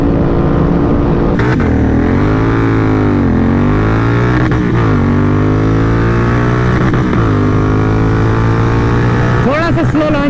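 A Bajaj NS400Z and a Royal Enfield Continental GT650 drag race, their engines roaring loudly and climbing in pitch through each gear before brief dips at the shifts, repeating several times up through fifth gear.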